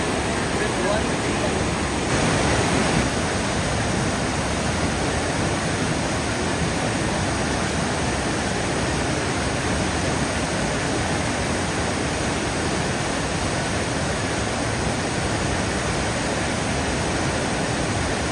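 Fast river water rushing at a kayaking festival on a Malabar river: a loud, dense, unbroken roar of turbulent flow, steady throughout and close by.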